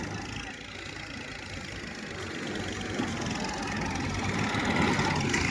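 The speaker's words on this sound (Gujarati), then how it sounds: "બહુ તાકાત મારી રહ્યું છે ટ્રેક્ટર" Massey Ferguson 1035 tractor straining in a field after getting stuck in a pit, a loud steady engine drone that builds slightly toward the end.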